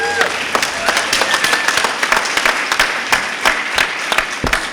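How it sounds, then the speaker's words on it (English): An audience at a Comic-Con 2016 writers' panel breaks into a loud, sustained round of applause, dense clapping with sharper individual claps standing out and a voice briefly heard over it. "let's give yourselves a round of applause for showing up"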